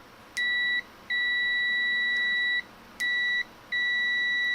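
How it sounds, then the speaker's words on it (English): A Klein Tools MM400 multimeter in continuity mode gives two rounds of paired electronic beeps as its test leads touch, each a sharp steady tone, close and clear over a quiet background. "If I touch the leads, it's almost like it double beeps."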